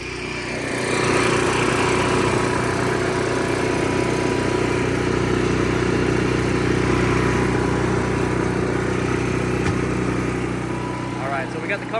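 Cummins Onan generator engine, being checked after stalling and surging trouble, runs with a steady continuous drone and a constant low hum close by, holding an even level throughout with no audible surging.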